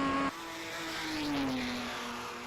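An old race car engine in the SRO World Series racing game holds a steady drone that shifts down after a sudden cut in the opening moments, then swells slightly and settles, fairly loud and continuous with no voices.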